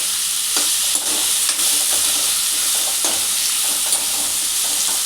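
Raw potato pieces fry in a pan for a gram flour potato fry, with a loud, even sizzle close by and light periodic scraping from stirring.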